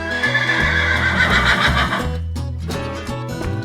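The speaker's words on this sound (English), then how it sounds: "What sound does a horse make?" Horse whinnying on a farm, a drawn-out bright neigh over a harmonic musical backing, fairly loud, followed by a lower trailing tail and a few soft thuds.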